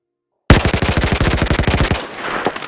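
A Kilo 141 assault rifle fires in the Boneworks VR game, loosing a close, loud burst of about twenty rapid shots in even rhythm, followed by a short fading echo and mechanical rattle.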